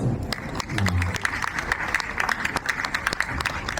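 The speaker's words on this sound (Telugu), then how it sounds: "గట్టిగా చప్పట్లు కొట్టాలి." Applause from an audience at a Vinayaka Chaviti program in Mid Valley City, a dense patter of clapping filling the whole stretch at steady loudness, with scattered louder claps standing out.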